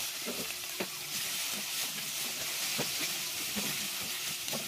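Onion and ginger sautéing in a pan for fish paksiw, a steady hiss of frying with scattered scraping stir strokes, close and fairly quiet.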